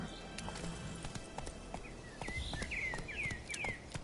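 Horse hooves clip-clop in The Witcher 3: Wild Hunt, a brisk run of sharp hoof knocks at a steady walking rhythm, close and clear, with faint birdsong chirps over the second half.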